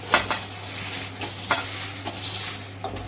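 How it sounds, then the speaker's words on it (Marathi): Roasted masala is stirred into fried corn chivda in a pan, with scraping utensil strokes and light sizzling, a steady close texture punctuated by several louder clinks against the pan. "त्यात आता ह्या मसाल्यात आपण हा मसाला छान आपला भाजलाय त्यात आपण हे मिक्स करून घेऊ आता"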